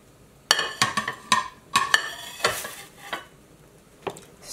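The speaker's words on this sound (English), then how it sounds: "Stir and combine." A spoon stirs sausage potato kale soup in a pot, giving a series of sharp metallic clinks and scrapes in an uneven rhythm, close and clear, under a faint simmering sizzle.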